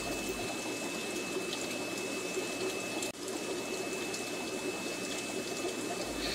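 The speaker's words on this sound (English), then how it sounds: "you can see that they certainly like the flow of water going into the tank" Water flows steadily into an aquarium tank fed from a central sump in a fish room, a continuous rushing, trickling stream with a brief dip midway.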